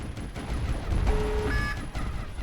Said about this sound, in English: the area of effect from the machine gun isn't doing what you'd expect it to do